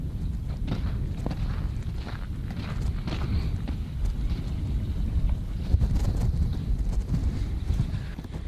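Wind buffets the microphone in uneven low rumbling gusts, with occasional faint clicks and bumps underneath; no one speaks.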